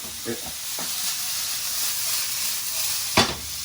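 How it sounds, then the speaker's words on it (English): Spicy Asian-style mullet sizzles and hisses steadily in a saute pan, with a brief clatter at the start and a sharp scrape-and-toss near the end. "Nice toss in the wok there in the pan."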